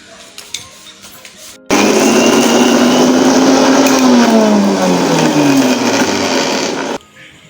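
An electric blender grinds cardamom, cinnamon and sour curd into a paste: a loud, steady motor whir starts abruptly, runs about five seconds with its pitch slowly sagging under load, then cuts off.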